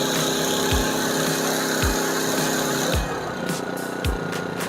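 An AIVOLT 3200W inverter generator engine runs loud and steady at raised revs under a load of about 1.7 kW, with regular low thumps recurring roughly once a second.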